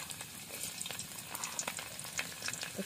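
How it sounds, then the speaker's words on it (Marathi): Garlic drops into hot oil over an open fire for a Malvani-style dish, giving a soft, close crackling sizzle with small irregular pops. It stays fairly quiet throughout. "सो मंडळी आपलं तेल गरम झालेलं आहे व्यवस्थित. आणि आता पहिलं तर लसूण"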